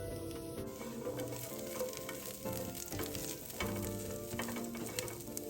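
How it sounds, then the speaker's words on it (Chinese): Garlic cloves and chicken frying over medium-low heat in a wok, a continuous crackling sizzle with occasional stirring clinks, close and steady, no voices. "再将蒜瓣50克放入一起爆香。"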